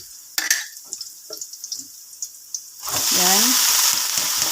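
Chopped mustard greens hit a pan of sautéed onion and garlic and burst into a loud, steady sizzle after a few quiet clinks of stirring, with a brief spoken word near the start.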